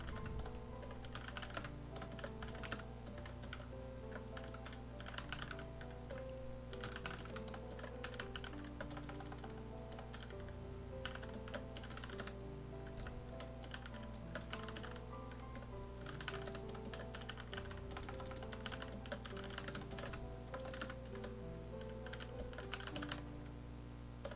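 Code is typed on a computer keyboard in Android Studio: a steady, fast run of soft key clicks lasting the whole stretch, quiet and close with no speech.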